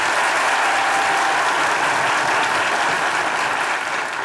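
Studio audience applause on a Turkish game show, a loud, dense, steady round of clapping filling the whole stretch and easing off slightly at the end, with no voices over it.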